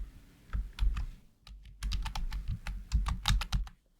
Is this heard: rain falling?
no